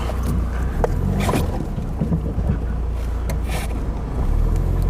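A 1982 Ford Escort Mk3 1.3-litre car reversing and then driving away, its engine a steady low rumble heard from inside the cabin throughout, with some wind-like rushing noise and no talking.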